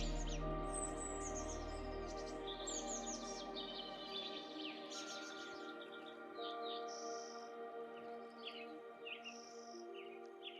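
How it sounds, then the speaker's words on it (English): Birds chirp and tweet in the mountain forest beside Lake Moraine, with many short calls overlapping near and far over a faint low rumble that fades after a few seconds. "Birds can chirp, and you can keep quiet and watch silently."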